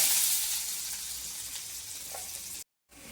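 Onion drops into hot oil already crackling with cumin and mustard seeds, giving a loud, steady sizzle that slowly eases, then cuts out briefly before resuming.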